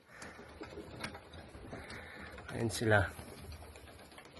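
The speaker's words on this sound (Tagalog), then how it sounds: "Pinakawalan natin yung mga bagong young bird natin." Young pigeons released into the open, giving soft wing flutters and brief calls amid outdoor background noise, with a person talking nearby.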